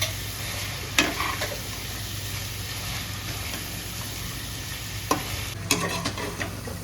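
Mutton tripe curry with mint sautéing in a pan, a steady soft sizzle broken by a few sharp stirring scrapes near the start and end, close and moderately loud with no talking.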